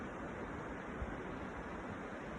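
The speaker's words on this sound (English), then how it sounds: "The sound you're hearing is the river behind me." A river flows close by outdoors, giving a steady, even rushing wash of water that stays constant throughout with no speech over it.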